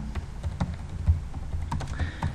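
Rapid, uneven keystrokes tap on a computer keyboard, crisp and close, with a few heavier presses standing out and no talking.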